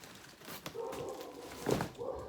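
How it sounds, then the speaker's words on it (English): A dog barks and yelps a few times at a distance, faint and muffled, with short whiny cries mixed in. "those will be my dogs going nuts in the background"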